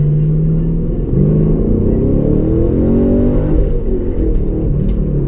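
Chevrolet Camaro engine revs hard from inside the car while driving, a loud continuous drone with rising and falling pitch sweeps, rough low rumble throughout and no talking.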